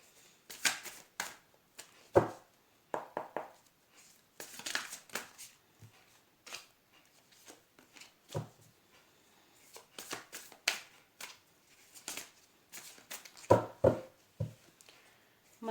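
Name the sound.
shuffling tarot cards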